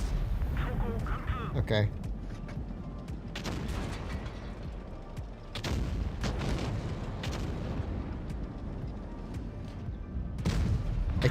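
Tank cannon blasts from WoT Blitz, high-explosive shells booming repeatedly in a battle with a WZ-114, several sharp loud shots rising over constant engine rumble while someone talks throughout.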